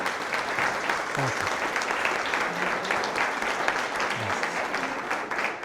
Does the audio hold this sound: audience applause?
yes